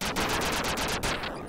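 Rapid, continuous gunfire from the Duck Game video game, a dense burst of loud shots running almost the whole time and cutting off near the end.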